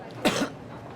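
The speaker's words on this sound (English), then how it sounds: "only in the end of the movie we know what caused the cough" A single short cough from the opening of the film Contagion, close and fairly loud, followed by quiet.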